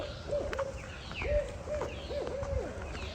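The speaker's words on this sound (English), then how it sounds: "Now I can head home knowing that I got to hear the owl one more time." An owl hoots repeatedly at night during camping on Wellesley Island, about five evenly spaced mid-distance calls over quiet ambient background.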